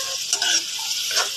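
Meat browning with tomatoes in a pan, stirred as it sautés; a steady bright sizzle with light scraping and clinks of the utensil against the pan, close and alone.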